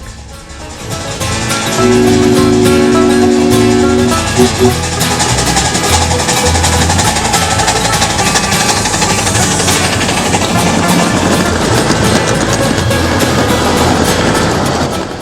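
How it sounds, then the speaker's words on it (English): Steam locomotive storming up a grade between Glenard and Macon at a winter railroad meet on the Central Pasco & Gulf Railroad, a loud, steady roar of working engine and rolling train with a brief whistle tone near the start. "the best part was always when the locomotive stormed up the grade between Glenard and Macon. The noise is fantastic."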